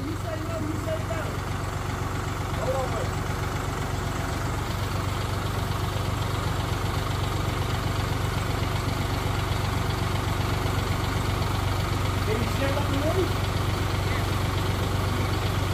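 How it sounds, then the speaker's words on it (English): A steady tractor engine idles nearby, a constant low rumble throughout, with faint voices occasionally audible beneath it. "We just ride in the tractor and the bucket."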